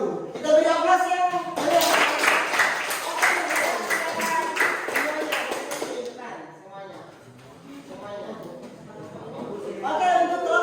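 Classroom applause for a presenting student group during a teacher training session, a dense patter of clapping that swells loud, fades in the middle and rises again near the end.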